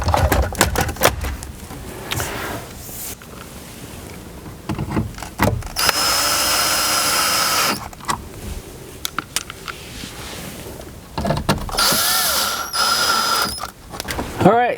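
Power drill driving screws while an Alpine car radio is fitted into a dashboard, with two sustained whirring bursts separated by clicks, rattles and handling noise, close by.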